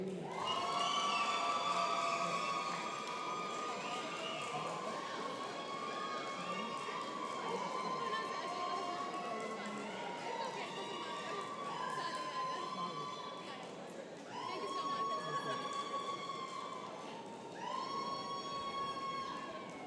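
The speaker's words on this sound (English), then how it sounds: "Just wait for the crowd to calm down a little bit." At a dental school white coat ceremony, a crowd cheers and shouts with high whoops and calls, a continuous moderately distant roar that swells again in later bursts.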